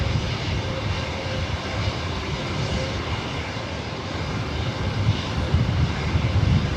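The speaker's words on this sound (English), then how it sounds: "Up next, the JetBlue A320." A JetBlue A320 jet airliner at LAX roars continuously with a broad, rumbling engine noise that swells slightly toward the end, close and loud, with no voices.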